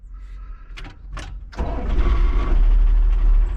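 A diesel loader engine, warmed by glow plugs, cranks briefly, then catches and settles into a loud, low, steady rumble close by.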